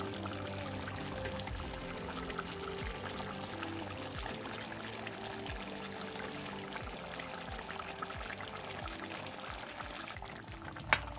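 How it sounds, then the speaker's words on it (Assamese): Ground chili powder is poured into a pot of chicken curry, giving a soft, continuous pouring and shuffling sound with faint kitchen clatter and a sharp knock near the end. "এতিয়া জলকীয়াখিনি দিওঁ, গুড়া কৰি থৈছিলোঁ যে সেইখিনি দি দিলোঁ।"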